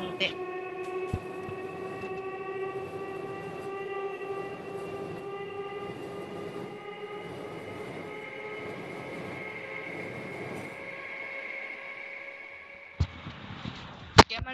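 A train runs in a high-graphics train simulator game, with a long steady horn blast over a rolling engine drone and a few sharp clicks near the end.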